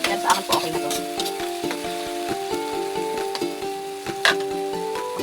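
Boneless bagoong shrimp paste sizzles in a pan for pakbet with steady crackling frying, punctuated by rhythmic stirring taps, while tonal music plays underneath.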